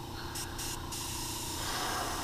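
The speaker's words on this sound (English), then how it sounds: "When you're spraying with your airbrush, don't start spraying right on the lure." An airbrush sprays paint onto a crankbait fishing lure as a steady, close hiss that runs the whole time, with brief gaps near the start.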